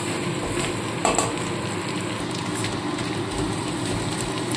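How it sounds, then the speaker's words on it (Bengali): Ginger fries in a pan for dal puri filling while being stirred, making a constant close sizzle with occasional scraping clatter from the utensil, and no speech on top. "দেখুন আদার কাঁচা গন্ধটা চলে যাওয়া পর্যন্ত একটু নাড়াচাড়া করে নিচ্ছি।"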